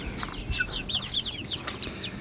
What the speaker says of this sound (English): So these are our big red broilers.